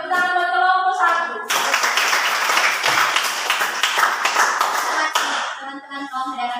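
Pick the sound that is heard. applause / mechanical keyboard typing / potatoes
applause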